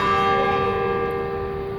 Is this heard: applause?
no